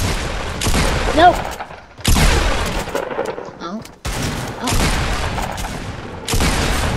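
Loud bursts of gunfire in Fortnite Battle Royale, several heavy volleys separated by short gaps, with a brief shouted voice in between.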